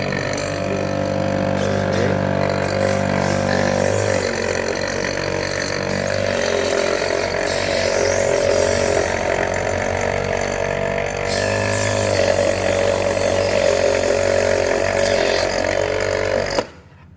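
A Delkochoice VSM-BP8 vacuum sealer machine runs with a loud, steady motor drone for about sixteen seconds, drawing liquid toward its rear canister, then cuts off abruptly.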